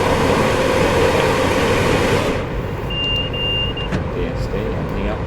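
A DSD or vigilance alarm in a Class 350 train cab in Train Sim World 5 sounds a steady, high, sustained tone for about a second, over loud running rumble after the louder cab noise drops away.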